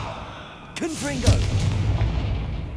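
The Confringo blasting spell in the Hogwarts Legacy video game goes off as a sharp burst followed by booming impacts and a rumbling tail, with a brief vocal grunt from the character during the cast.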